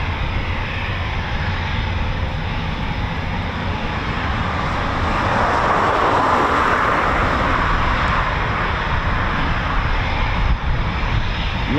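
A Eurofighter Typhoon FGR4 jet taxis at an RAF station, giving a steady, loud broadband engine roar that holds level for the whole stretch without breaks.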